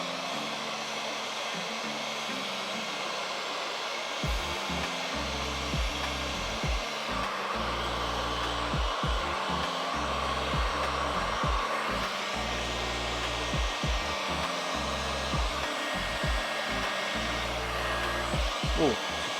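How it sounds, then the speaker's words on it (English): A heat gun blows a steady, loud rushing hiss while it preheats the thin tailgate panel of an XC Falcon panel van. The roar runs without a break, and intermittent low thumps and handling knocks sit underneath it. "I'm just going to preheat this with the heat gun."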